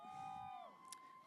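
Crowd cheering at a university commencement ceremony, a steady roar of voices with whoops for a graduating student, fairly distant and sustained.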